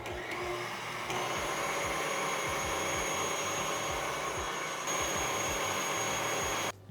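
An electric mixer whips heavy cream with powdered sugar, droning loudly and steadily at close range with a rhythmic beater churn beneath the whine. It cuts off at the very end, with no talking.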